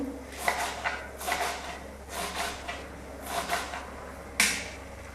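A knife chops fresh fenugreek leaves finely on a board. A string of soft, crisp cuts comes in uneven bursts, with one sharper chop near the end, close and fairly quiet.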